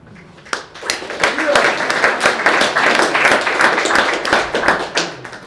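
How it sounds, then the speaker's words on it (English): An audience applauds after a poetry reading at a creative writing event: dense, sustained clapping from many hands builds quickly after a few early claps and stays loud and even throughout. "You guys don't have to keep applauding."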